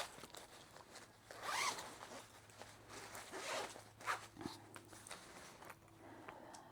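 Zipper on a Star Wars themed packing cube bag being pulled open in several close, quiet raspy strokes, interspersed with fabric rustling and handling noises.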